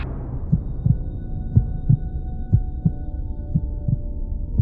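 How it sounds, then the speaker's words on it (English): Heartbeat sound effect in a dramatized telling of Poe's The Tell-Tale Heart: steady, regular double thumps pulse over a low throbbing hum, repeating about every half second, close and prominent with no talk. "The heart grew louder, so loud I thought it could burst."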